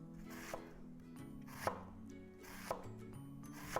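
A knife cuts a halved red onion into thin half moons on a cutting board, with four crisp, evenly spaced chops close by against a quiet background.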